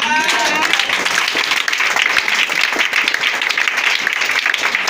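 Congregation clapping and applauding inside a church during a French-language sermon, a dense, steady wash of hand claps lasting throughout, fairly loud and close, with voices mixed in.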